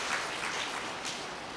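An audience at a spiritual talk applauds, a soft, even patter of many hands heard fairly distant and faint, with no voices over it.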